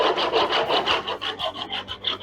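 A tool scrapes back and forth across a coating laid in two coats over lightly sanded plastic ceiling insulation, about a dozen quick rasping strokes in an even rhythm, loud and close, with no voices.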